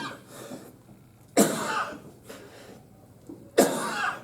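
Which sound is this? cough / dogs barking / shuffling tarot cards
cough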